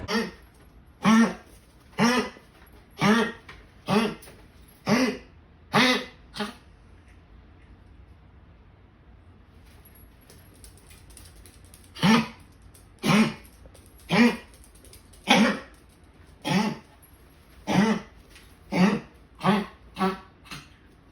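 A dog with bronchitis coughs and hacks in repeated rhythmic bursts, a run of harsh coughs, a quiet pause, then another long series, close by.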